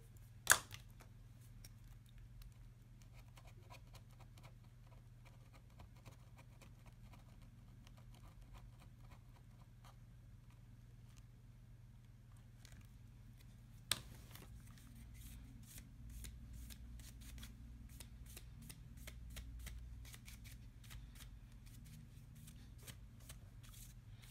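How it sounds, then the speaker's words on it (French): Adhesive residue scraped off the chassis and LCD of a Polaroid 101B tablet during a touchscreen glass replacement, a long run of faint, rapid, close scratchy strokes with a couple of sharp clicks and a steadier scraping stretch later on. "On va retirer tous les résidus qui se trouvent sur le châssis et sur le LCD."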